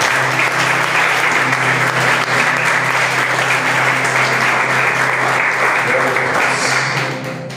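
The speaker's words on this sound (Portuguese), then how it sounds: "aplaude para Deus" A church congregation applauds for God, loud, dense clapping filling the room steadily over a low background hum, tapering off at the very end.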